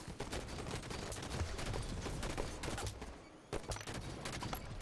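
Rapid bursts of gunfire from a Call of Duty Strongholds match crackle continuously, dense overlapping shots with a brief lull before more firing resumes.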